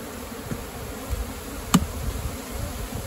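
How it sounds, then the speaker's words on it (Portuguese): Honey bees at an open hive during a super-adding inspection give off a steady, close, low buzz, with one sharp click partway through and no talking. "Olha as abelhas aqui"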